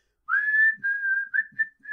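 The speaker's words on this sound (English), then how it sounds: "He's going down and he's whistling." A person whistles a short tune alone, a clear high melody of a few sustained notes with brief breaks between phrases.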